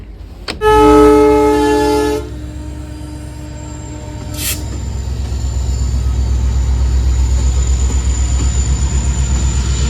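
An Amrit Bharat passenger train pulls into a station on the Delhi to Ayodhya route, opening with a loud, sustained horn blast, then a short high squeal and a rising, rhythmic rumble of wheels over rails close by.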